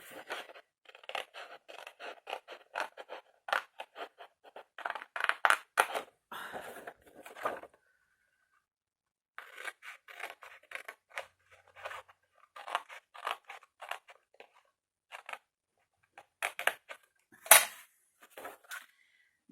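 Scissors snipping through a sheet of textured scrapbooking paper in quick bursts of short crisp cuts, up close, with a pause midway and no voice over it.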